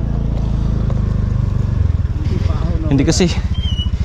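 A motorcycle struggling and slipping on a muddy road during a storm rumbles steadily up close, its engine loud and continuous, with a voice talking over it.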